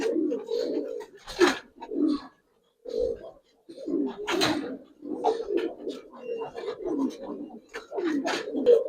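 Giribaz and coloured pigeons coo repeatedly in a loft, the low rolling calls overlapping in a steady run with brief gaps, while sharper noises and some talk cut in now and then.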